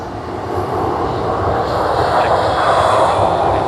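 DHL cargo jet taxiing and turning at Sydney Airport, a loud, steady engine roar with broad rushing noise that swells slightly over a few seconds, close by and continuous.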